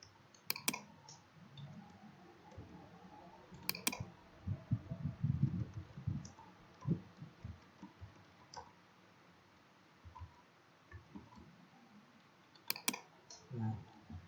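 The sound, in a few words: computer mouse clicking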